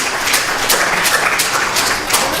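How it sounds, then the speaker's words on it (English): Audience applause at a Sunday feast as a name is called, steady moderate clapping from a crowd, even and sustained for a couple of seconds. "Ida, please give her a big round of applause."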